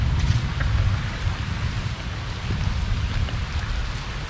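Steady rain falls behind a house, a dense, even hiss of drops pattering on surfaces that continues without a break, close and fairly loud, with no voices.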